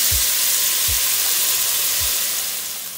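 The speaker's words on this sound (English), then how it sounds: "I'm going to go ahead and add the onions and the peppers, and we're going to let that cook for 3 minutes" Onions and peppers fry in olive oil over medium-high heat with a loud, dense, continuous sizzle, close by. A few soft low thumps come early on, and the sound eases slightly toward the end.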